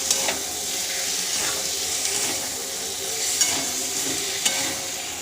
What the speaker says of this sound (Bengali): মশলা দিয়ে কষে নিচ্ছি